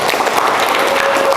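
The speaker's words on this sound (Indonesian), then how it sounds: "Sekali lagi dong, tepuk tangan buat Istidlar." A short burst of applause rises for Istidlar from an audience at a talk. The clapping is dense and fairly loud and stays steady through the brief moment.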